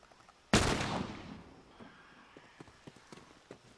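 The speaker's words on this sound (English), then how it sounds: "Oh, you see, they're shooting clickers." A single loud gunshot blasts out close in The Last of Us, aimed at clickers, its broad crack fading into a reverberant tail, then trailed by scattered faint thuds and clicks from the game scene.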